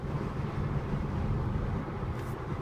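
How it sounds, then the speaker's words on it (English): Steady low wind and road rumble inside a Fiat 500X Trekking 2WD on the move, a quiet, even cabin hum with mild air noise and no talking. "Just a little bit of initial air noise, but it's very, very quiet."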